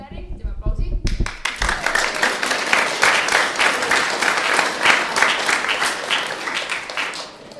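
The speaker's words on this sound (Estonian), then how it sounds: "teeme aplausi" A school concert audience breaks into applause after a brief spoken introduction, dense crisp clapping from many hands filling the room and continuing steadily to the end.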